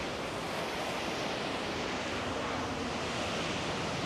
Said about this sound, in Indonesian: Wah ini ombaknya besar banget nih.